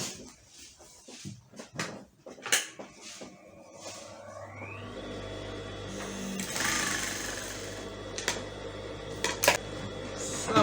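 A sewing machine stitches around an elastic waistband, starting with scattered clicks and handling noises, then settling into a steady whirring run of stitches with occasional sharp taps.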